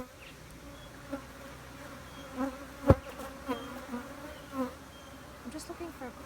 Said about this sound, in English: Oh, sorry, bees.